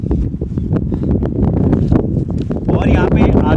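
Strong wind on an exposed hilltop campsite before rain buffets the microphone in a constant, heavy rumbling roar, close and loud, while someone talks over it.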